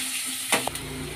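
Green chillies drop into a hot pan with a brief hiss and crackle of frying oil, a short close sizzle rising over a low steady fry.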